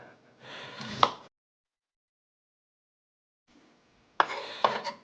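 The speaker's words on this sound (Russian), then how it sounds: "Я теперь немножко порежу нашу капусту и сложу вот сюда." Cabbage being chopped on a board for vegetable soup: two short bursts of knife cuts with sharp strikes, separated by a pause of near silence.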